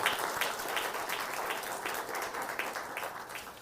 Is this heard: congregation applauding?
yes